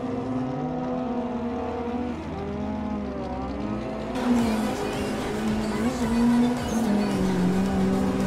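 A drift car's engine on Nikko circuit, a sustained droning note that shifts pitch as the throttle varies, louder and harsher in the second half as revs climb.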